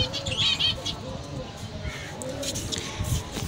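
Caged finches give a few light chirps and a brief flutter of wings, close by, over background noise and a speaking voice.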